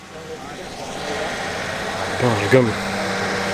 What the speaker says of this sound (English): Now that is an engine.